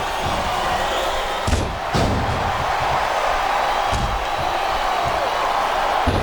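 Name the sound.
crowd chanting in WWE SmackDown vs Raw 2008 video game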